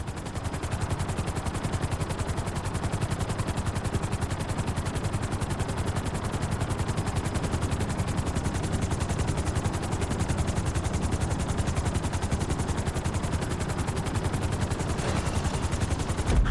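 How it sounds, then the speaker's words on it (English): A helicopter in GTA V comes down onto a helipad, its rotor making a dense, rapid, machine-like chopping that stays steady and fairly loud throughout with no voices, ending in a slight bump. "Bring the helicopter down gently onto the helipad."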